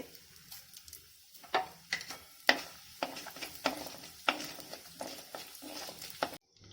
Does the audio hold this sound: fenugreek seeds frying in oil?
yes